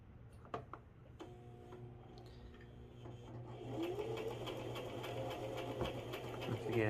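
A sewing machine stitches a lower-body garment, starting after a few clicks and then running in a steady, soft, rapid mechanical patter.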